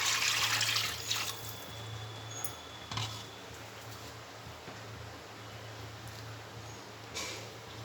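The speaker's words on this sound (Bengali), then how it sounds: "কড়াইয়ের মধ্যে আমি পানি দিয়ে দেবো ডাল সিদ্ধ করার জন্যে।" Water pours into a karai set on a lit gas stove for boiling masoor lentils, a rushing splash at the start that quiets to a low trickle, with another brief gush near the end.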